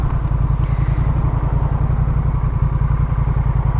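A scooter-style motorcycle ridden along highway 495 gives a loud, steady engine drone with a throbbing low rumble that holds unbroken throughout, with no talking.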